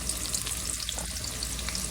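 Onion drops into hot oil left over from frying fish, producing a dense, steady sizzle that fills the short moment, close and even with no voices.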